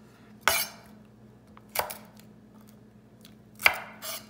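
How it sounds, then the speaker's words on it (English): Garlic is rubbed across a metal cheese grater in a home kitchen: three separate sharp, rasping strokes, close and fairly loud, with quiet pauses between them and no talking. "we're gonna go ahead and do the cheese grater"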